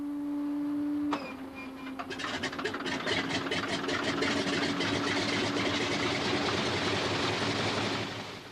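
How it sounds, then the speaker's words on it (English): A Pratt & Whitney air-cooled radial engine on a de Havilland Beaver coughs into life after a faint hum, then settles into a loud, rough, rapidly popping rumble that continues steadily, with no voices. "a Pratt & Whitney air-cooled radial engine. It is powering a de Havilland Beaver"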